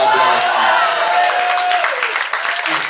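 A church congregation applauds in a broad, continuous wash of clapping and crowd noise, with a few voices and cheers rising from the room.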